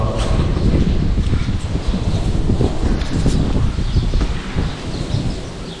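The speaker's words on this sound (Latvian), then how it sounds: "tagad ir tik liels vējš, ka jūs man vairs nedzirdēsiet" Strong, steady wind at a seaside resort in Hurghada, Egypt, roaring and buffeting the microphone, with a constant low rumble and rustling of palms throughout, no pauses.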